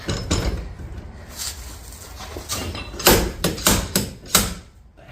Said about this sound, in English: Take a couple good whacks and it should come out.